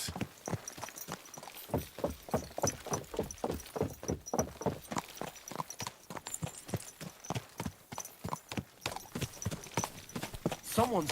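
A horse's hooves clip-clop in a steady, evenly spaced trot in Kingdom Come Deliverance 2, close and clear, with a brief spoken line over the start.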